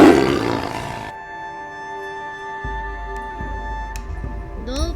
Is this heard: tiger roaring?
yes